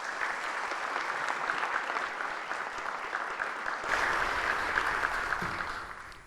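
An audience at a government social policy strategy meeting applauds continuously, a steady, moderately loud wash of clapping that swells slightly midway and holds to the end.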